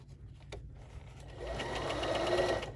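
A Bernina sewing machine stitches an invisible zipper with a rapid, steady mechanical whir that starts quietly and grows louder and fuller partway through. No one speaks.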